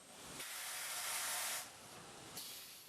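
Loud broadband steam hiss from an industrial garment iron, one long burst followed by a quieter release, with continuous background noise throughout and no voices.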